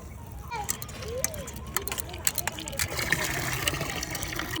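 Jujube fruits being washed by hand in water, with splashing and sloshing under children's voices and chatter nearby, outdoors on a rooftop.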